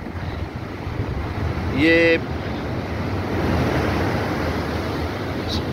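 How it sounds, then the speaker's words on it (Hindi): High sea waves, 8 to 10 feet tall, crash on the Karachi shore in monsoon weather, making a steady broadband roar with wind noise throughout. A voice speaks briefly near the start. "कितनी फुट ऊंची लहरें जो हैं वो आ रही हैं"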